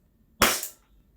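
A CZ Shadow 2 toy airsoft pistol fires a single sharp shot, a sudden loud crack with a quick decaying tail, heard alone against near silence.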